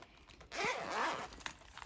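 A double silver zip on a Look Fantastic beauty box bag is pulled open in one quick, smooth rasp lasting under a second, close and clear against near silence.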